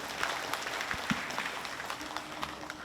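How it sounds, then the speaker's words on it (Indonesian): A seated audience at a Bali government closing ceremony applauds, giving a steady, moderately loud patter of many hands clapping that continues evenly throughout. "Tepuk tangan untuk Denpasar"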